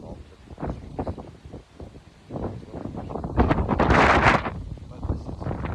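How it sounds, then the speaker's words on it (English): Gusts of wind buffet a microphone outdoors on an asphalt walk, making uneven low rumbling and blustery bursts that swell to a loud peak near the middle and then ease off. "we have this facing away from the wind."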